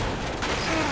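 Dense gunfire crackles without a break from a jungle firefight in the game Uncharted 2: Among Thieves, a loud, steady barrage lasting under a second.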